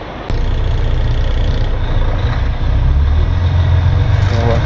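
A pickup truck's engine idles and then pulls forward, a steady low rumble that starts abruptly and stays close and loud throughout, with no talking over it.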